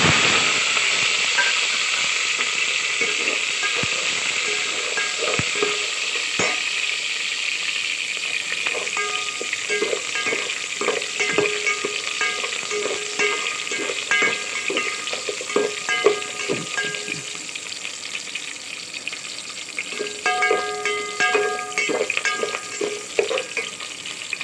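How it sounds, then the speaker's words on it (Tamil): Onion, ginger and curry leaves fry in a pan for a herbal kuzhambu, giving a steady loud sizzle and hiss with scattered crackles and pops throughout. "வெங்காயம் நல்லா வதங்கிடுச்சு."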